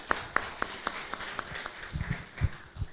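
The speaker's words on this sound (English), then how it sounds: "we'll give a big round of applause to all three participants" Sparse, scattered hand claps from a small audience at a forum livestream, a few distinct claps early then a louder cluster of thumps toward the end, fairly faint overall with no talk.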